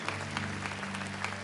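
Church congregation applauding during a sermon: a steady wash of many hands clapping at a moderate distance, continuous and fairly even with a low hum underneath.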